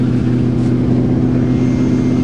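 A 1976 Chrysler New Yorker with a 400 big block engine idles steadily in deep snow, a loud, close, continuous low rumble with a faint pulsing throb throughout.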